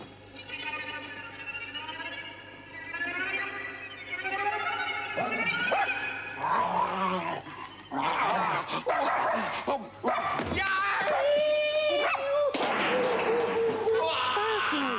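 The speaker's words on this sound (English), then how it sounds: "Stop barking, Fritz." A dog barks and whimpers in a radio drama set in the desert, the yips and barks mixed with people talking over them.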